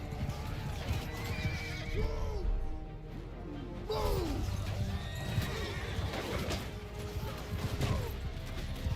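Horses neighing and whinnying in the Bannerlord video game, with rhythmic hoof clip-clop and occasional crashes from a battle; a voice shouts briefly over the busy, continuous action.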